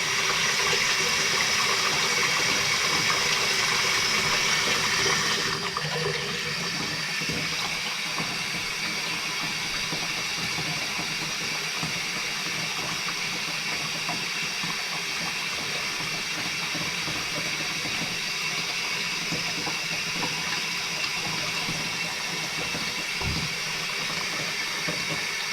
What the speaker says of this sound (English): We're gonna fill it up with hot water to the overflow, and then we'll test it out.